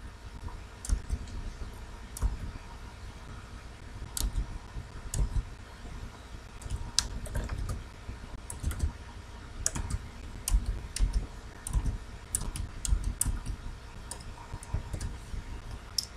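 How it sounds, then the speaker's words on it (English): A new password is typed on a computer keyboard in quick, irregular bursts of close, crisp key clicks, with no talking. "So type in your new password."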